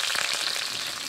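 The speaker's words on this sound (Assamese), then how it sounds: "কেৰাহীখন গৰম কৰি অলপমান মিঠাতেল গৰম কৰি ল'লোঁ আৰু তাতে মই পিঁয়াজ আৰু আদা নহৰু দি দিছোঁ" Onion, ginger and garlic fry in hot mustard oil in a wok, giving a steady close sizzle with faint crackles and no talking.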